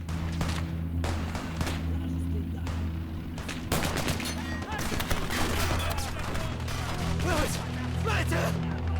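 Bursts of gunfire from a DShK heavy machine gun crackle through a battle in the video game Gates of Hell: Ostfront, loud over a constant rumble of combat, with speech mixed in.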